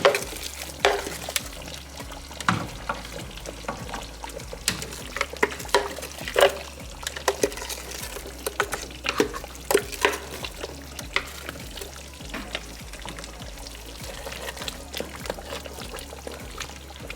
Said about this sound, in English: Now is the time to dump everything into the pot